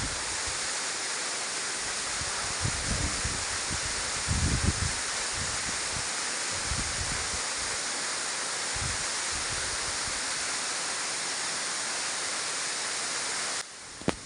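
Constant roaring rush of Busay Falls in San Agustin, Romblon, broad and loud, with low buffeting gusts of wind off the falling water thumping across it at irregular intervals.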